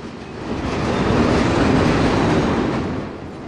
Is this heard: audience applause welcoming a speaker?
no